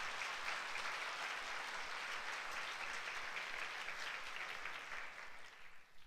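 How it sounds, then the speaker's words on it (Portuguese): A church congregation at a Sunday service breaks into steady, dense applause that fills the room for several seconds, then starts to thin out and fade near the end. "Dá um aplauso a Jesus"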